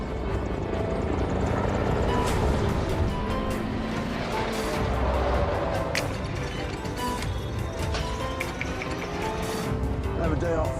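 A helicopter in an action film scene strains against a tow truck's hooked chain, its rotor noise thick and loud. Impacts and clatter run throughout.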